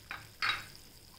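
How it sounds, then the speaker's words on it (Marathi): Vermicelli upma with vegetables and coriander being stirred in a cooking pan: two short, close scraping strokes, the second longer, with no talking. "हलवून घेऊया।"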